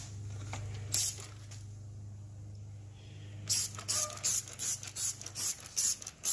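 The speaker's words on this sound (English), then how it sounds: "I'm gonna get some Comet spray and see what it can do to this." Comet spray cleaner is sprayed onto a whitewall tire in a series of sharp, close hissing bursts, first a single spray and then a rapid run of pumps, with a low hum underneath.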